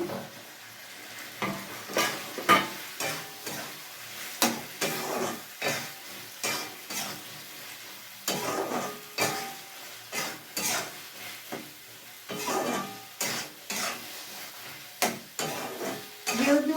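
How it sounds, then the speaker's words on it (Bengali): Pre-fried potatoes are stirred into sizzling goat-fat spice masala for aloo dum, a steady hiss under frequent loud scrapes and clatters of a spoon against the pan, continuing in uneven bursts. "এই যে আলু ভেজে রেখেছি যেটা ওইটাও দিয়ে দিচ্ছি"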